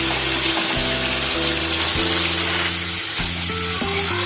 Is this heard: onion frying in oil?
yes